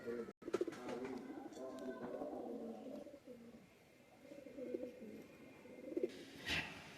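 Pair of KTM Teddy pigeons, a male and a female, cooing steadily in soft repeated low calls for several seconds, fairly close, with a brief louder burst near the end.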